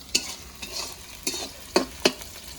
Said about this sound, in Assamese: আমি যে পুৰা পেষ্টখিনি অলপমান ৰঙা কৰি ভাজিব লাগিব।